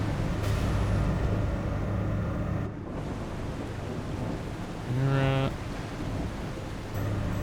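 A thunderstorm at sea in the survival game The Last Caretaker: constant roaring wind and rain fill the scene, broken by a deep rumble, and someone briefly speaks over the storm.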